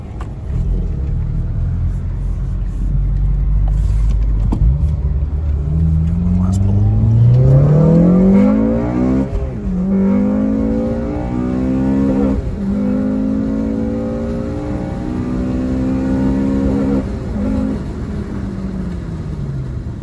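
Stock 8th-generation Honda Civic accelerating hard from inside the cabin, engine pitch climbing steadily through the gears with brief dips at shifts over a continuous road rumble, loud and close, with a voice talking over it.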